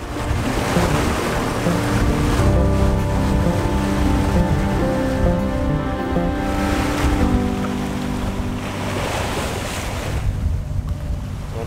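Ocean waves surge and rush steadily around a sailboat crossing the Atlantic at speed, with loud continuous water noise and wind buffeting throughout, no voices.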